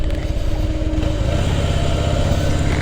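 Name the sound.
Harley motorcycle engine on a ride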